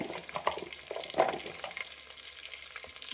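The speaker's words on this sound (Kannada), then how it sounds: "ಈಗ ತೊಳೆದು ಇಟ್ಕೊಂಡಿರೋ ಅಂಥ ನುಗ್ಗೆಕಾಯಿಯನ್ನು ಸೇರಿಸ್ಕೊಳ್ತಾ ಇದ್ದೀನಿ." Drumsticks added to a tempering for sambar and frying slowly, a faint sizzle with a few stirring scrapes early on that then settles to a quiet hiss.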